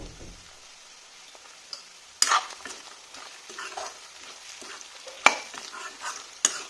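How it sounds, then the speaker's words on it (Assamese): Pork frying with Kashmiri red chili powder in a pan, a soft low sizzle broken by a few sharp scraping or stirring knocks, close and moderately quiet. "এতিয়া আৰু অকমান সময় ভাজি লওঁ এনেকৈ।"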